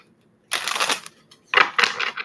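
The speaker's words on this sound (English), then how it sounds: "Last shuffle." A tarot card deck being shuffled up close, two quick bursts of riffling cards separated by a short pause, in an otherwise quiet room.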